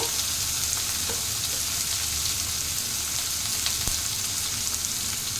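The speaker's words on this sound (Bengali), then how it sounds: "এবার টমেটো আর কাঁচা লঙ্কা এগুলো দিয়ে ভাজবো আমি" Tomatoes and green chilies fry in a hot pan, giving a steady, dense sizzle that stays loud and close throughout, with faint stirring clatter and no voices.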